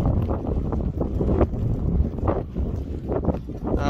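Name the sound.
strong wind blowing into the microphone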